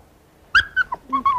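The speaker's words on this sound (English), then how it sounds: "Quit your barking." A dog gives a few short, high whimpering yelps and barks close by in a quiet room, each cry brief and separated by small pauses.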